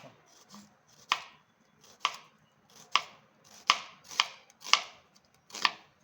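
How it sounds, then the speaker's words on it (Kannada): A knife finely slicing onion on a cutting board for biryani, sharp rhythmic chops, about seven distinct strikes at roughly one-second intervals, close and clear with no talking. "ಈಗ ನಾನು ಇದು ಪೀಸ್ ಈಗ ಸಣ್ಣದಾಗಿ ಸ್ಲೈಸ್ ಮಾಡ್ಕೊಳ್ಳೋಣ."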